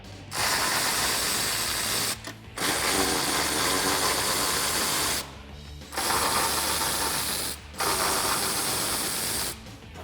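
A ratchet wrench backs 16 mm bumper bracket bolts out of a Jeep Wrangler JK frame rail, with three long bursts of rapid, loud mechanical clicking broken by brief pauses.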